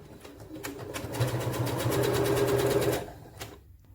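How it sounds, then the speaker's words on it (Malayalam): A sewing machine stitching along the edge of a nighty neck, a fast rattling run that builds up, holds steady for about two seconds, then stops, followed by a short tap. "ഞാനിപ്പോൾ ഇവിടെ ഒരു സ്റ്റിച്ച് കൊടുക്കുന്നുണ്ട്. എഡ്ജിലൂടെ തയ്ച്ചെടുക്കാം."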